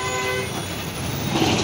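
Vehicle horns toot continuously over the rumble of trucks and other traffic on a fully jammed road in Pune after a container lorry's brakes failed, the honking loud and near with a steady engine drone underneath.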